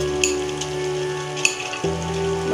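Tomato rice stirred in a hot frying pan, with a steady sizzle underneath and a few light clinks of the spoon against the pan.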